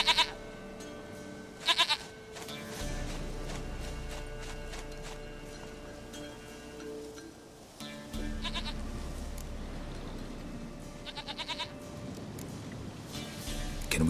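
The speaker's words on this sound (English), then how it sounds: "Goat of mine, dearest, sweetest goat." A goat bleats several times in The Witcher 3, with short cries near the start and later, alongside hoof clip-clop and footsteps over a quiet game ambience.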